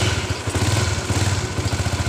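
Honda CB150R motorcycle engine fitted with a modified carburetor, running close by with a loud, steady rhythmic thumping pulse and light mechanical clatter throughout a short stretch, with no voices.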